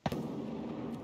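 A grenade goes off in a squad-based shooter game, one sharp, loud blast with a sudden onset, followed by a sustained rumbling, crackling tail that fades only slightly over a second.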